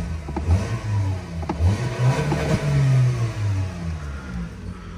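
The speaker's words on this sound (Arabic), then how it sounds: "هانتوما بلاتي نكسيري الموتور شويه حيت سخن" A warmed-up 2020 Toyota Corolla SE engine revs repeatedly, rising and falling in pitch with short bursts of acceleration, close and fairly loud with no talking.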